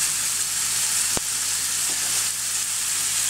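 Smoked pancetta fries in a pan with a constant bright sizzle and crackle, close up, broken by one sharp knock of a utensil against the pan.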